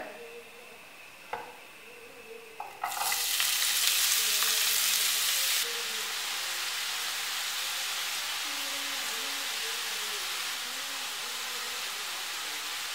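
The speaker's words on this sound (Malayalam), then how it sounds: "ഇതിലേക്ക് അരിഞ്ഞു വെച്ചിരിക്കുന്ന സവാള, ഇഞ്ചി വെളുത്തുള്ളി പച്ചമുളക് കറിവേപ്പില ഇതെല്ലാം കൂടി ഇട്ടൊന്ന് വഴറ്റാം." Onion, ginger, garlic, green chili and curry leaves dropped into hot oil for a Kerala pearl-spot fish dish, with a few clinks and then a loud sudden sizzle that settles into a steady, slightly quieter frying hiss.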